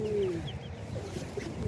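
A pigeon being trained to return to its box gives soft, low cooing calls, a few short coos over faint background noise.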